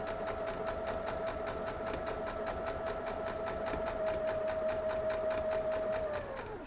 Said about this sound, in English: So we're just going to sew this side down.